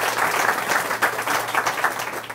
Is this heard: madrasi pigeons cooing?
no